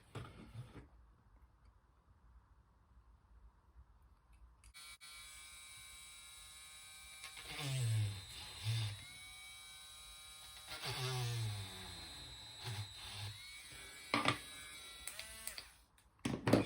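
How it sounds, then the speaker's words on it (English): A small electric drill bores holes in the plastic of a 40+ year old OO gauge model during a lighting upgrade. It makes a steady, high motor whine with several louder bursts as the bit cuts, and there are quiet pauses between them. "Okay, so there are the holes drilled out."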